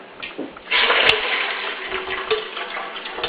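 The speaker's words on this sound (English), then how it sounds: "I'm going to rinse it a little bit in water" Water sloshes and swirls as mung beans are rinsed in a bowl at home, a soft splashy wash starting suddenly and continuing with light ticking knocks.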